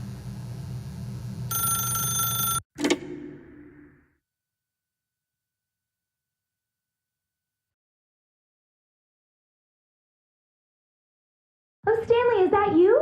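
A telephone rings in the video game The Stanley Parable, a steady electronic ring near the start that cuts off abruptly, followed by a brief clatter, a long silence, and a voice speaking at the end.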